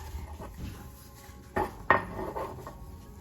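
A knife scrapes and taps against a ramekin while spreading butter inside, giving soft rubbing strokes and two sharper clinks of metal on ceramic, close and fairly quiet.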